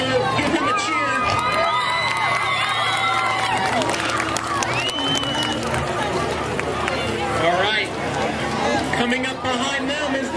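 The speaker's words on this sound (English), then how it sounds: "Give him a cheer." A crowd cheers and shouts as a float passes in a high school homecoming parade in New Miami, Ohio, with children's shrieks, whoops and loud chatter overlapping continuously under a talking voice.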